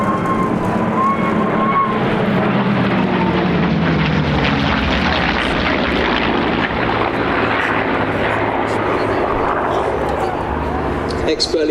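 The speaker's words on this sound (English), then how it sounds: "Expertly piloting the P-51 is Eskil Amdahl." A P-51 Mustang propeller aircraft flying aerobatics at an airshow, its engine droning loudly and shifting in pitch through the manoeuvres, under a commentator's voice.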